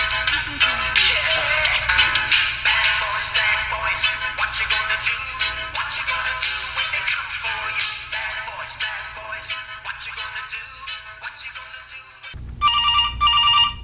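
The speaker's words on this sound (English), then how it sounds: "you got a phone call" A telephone rings in a dramatized true-crime reenactment with a call from a nurse. A dense, busy ringing fills most of the stretch, then a clearer, louder electronic ringtone chirps in briefly at the end.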